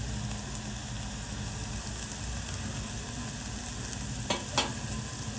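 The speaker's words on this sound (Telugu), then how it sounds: "బిర్యానీ ఆకు మళ్ళీ కూడా దోరగా ఫ్రై చేసుకోవాలి." Bay leaf and ground spices such as pepper, coriander, cumin and garam masala fry in hot oil in a pan, making a steady soft sizzle throughout with a couple of faint stirring clinks near the end.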